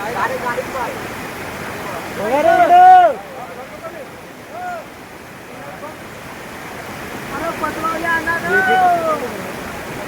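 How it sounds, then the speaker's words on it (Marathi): Continuous rushing canal water flows nearby, forming a steady wash beneath voices that talk briefly at the start and again near the end. "हा कॅनलचा पाणी इथून जातो."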